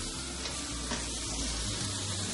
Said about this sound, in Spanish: Flambeamos con un poquito de brandy, lo que hemos añadido son los huesos y toda la verdurita.